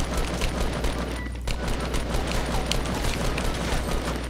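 Gunfire in the video game Fortnite: dense, rapid bursts of shots that run almost without a break, loud and close, over a low, constant game hum.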